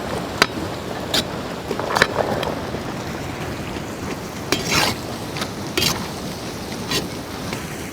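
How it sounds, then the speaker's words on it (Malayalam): Shallots and curry leaves fry in hot oil for a goat head curry, a steady sizzle broken by sharp scrapes of a spoon stirring against the pan at irregular intervals. "ചെറിയുള്ളി ഒന്ന് നല്ലോണം മൂത്ത് ഒന്ന് വാടി വരണം."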